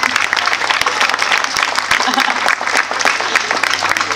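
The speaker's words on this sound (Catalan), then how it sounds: "Vinga, aprovat per unanimitat, un aplaudiment." An audience at a town festival proclamation in Vilablareix bursts into dense, sustained applause, many hands clapping loudly and steadily throughout, with a voice carrying over the clapping.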